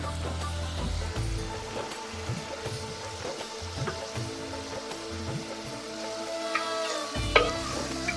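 Tomatoes with anchovy dry fish and rock salt cook down into a thokku in a pan, a lively sizzle and bubbling under repeated spoon scrapes and knocks, fairly loud and close.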